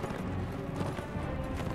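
Horse hooves clop in a quick, steady rhythm against a busy, dense background, a galloping mount in Mount & Blade: Warband with the Warsword Conquest mod, with no voices.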